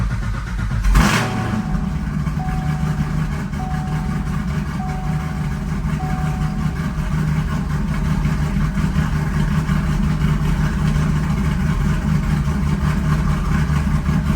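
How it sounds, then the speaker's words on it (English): Car started from inside the cab, fitted with new headers and exhaust: a brief loud crank and catch, then a steady, even idle hum that holds for the rest of the clip with no talk. "Here's an in-cab start of my car."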